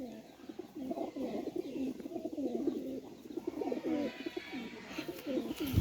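Soft, repeated cooing from a female Pakistani Teddy pigeon, heard close by in a continuous run of low throaty phrases with small pauses between them.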